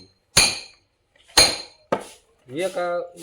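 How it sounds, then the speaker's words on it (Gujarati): Acacia wood being split in a village yard, with two sharp, bright strikes about a second apart followed by a third shorter crack, close and loud, then a voice speaking briefly. "એક જ ઓલામાં આખું લાકડું ફાડવાનું છે।"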